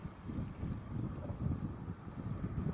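Low, rumbling wind gusts against the microphone outdoors while fishing in the Russian countryside, a steady blustery roar with no voices.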